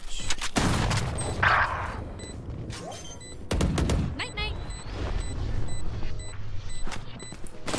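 Loud shotgun blasts in a tactical shooter video game, a few heavy booms followed by scattered shots and beeping effects, with a voice speaking intermittently over the action.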